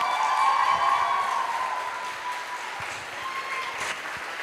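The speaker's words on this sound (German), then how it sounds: "Einen stürmischen Applaus bitte für Ranma Saotome!" Stormy applause from a cosplay show audience at an anime event, a steady dense wash of clapping that stays loud throughout and eases slightly toward the end, with a sustained tone lingering underneath early on.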